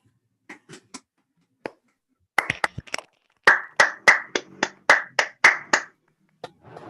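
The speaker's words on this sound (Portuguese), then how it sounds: "agradecer com uma salva de palmas" Thin, scattered clapping from a handful of people after a cosmology lecture, sounding over microphones: a few isolated claps at first, then a brief run of crisp, separate hand claps before it fades.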